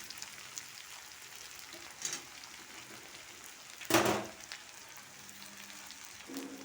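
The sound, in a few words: tomato and beans frying in a pan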